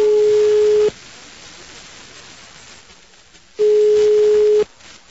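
Telephone line tones heard after redialing during a prank call: two long, steady beeps separated by a gap of hiss, loud and close on the line, with no talking.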